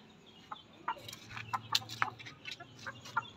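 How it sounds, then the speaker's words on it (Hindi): A hen clucking in a backyard coop area, a series of short clucks and scratchy calls coming at an uneven rhythm, fairly close and moderately loud over faint background rustle. "तो यार मेरी एक मुर्गी वहाँ पर है"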